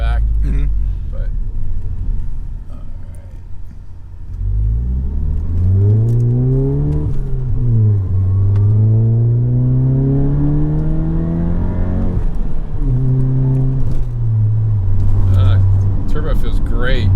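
A VW GTI's engine revs up through the gears in rising, falling sweeps, loud and close from inside the car, easing off between pulls as people talk over it.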